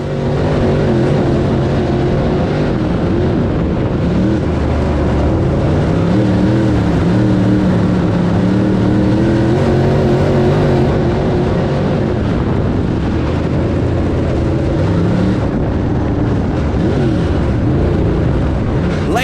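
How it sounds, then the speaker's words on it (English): Race cars roar around a short oval speedway during a championship series race at Swainsboro Raceway, engines droning loud and continuous with rising and falling revs as cars battle for position. "Here comes car number 41. He's going to try him on the outside again, Brian."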